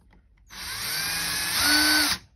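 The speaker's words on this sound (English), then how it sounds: "And I'm going to turn my drill on." An electric drill twisting wire whirs up, runs steadily for under two seconds with a slight rise in pitch, then winds down and stops.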